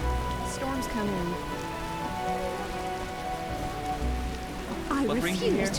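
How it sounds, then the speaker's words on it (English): A heavy rain downpour in the video game The Witcher hisses steadily and close, with voices and tonal sounds layered over the constant patter. "What a downpour!"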